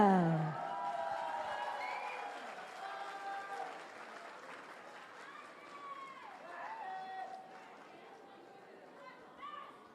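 Audience applause at the Myanmar Star Season 2 award ceremony, a burst of clapping that starts loud and fades gradually, mixed with faint crowd chatter and background music.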